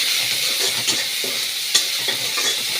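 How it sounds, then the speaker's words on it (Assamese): Onions and green chilies fry in hot oil, a loud, close sizzle with rhythmic scraping strokes of a spatula stirring the pan. "ইয়াত মই পিঁয়াজ কাটি থোৱা পিঁয়াজ দিলোঁ আৰু লগতে পিঁয়াজ জলকীয়া কাটি থৈ দিছিলোঁ"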